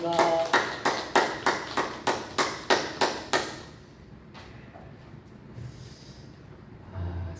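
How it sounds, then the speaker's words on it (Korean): A church congregation at a Wednesday evening service claps in unison, about nine sharp, evenly spaced beats, then stops, leaving quiet room tone and faint voices. "우리 하나님께 영광의 박수를 올려드리겠습니다."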